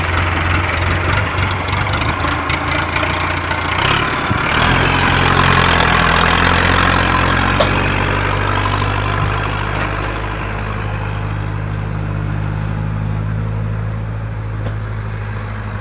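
A Massey Ferguson 285S 4x4 tractor's diesel engine idles steadily up close, a deep rumbling drone with a low knocking pulse that holds constant throughout.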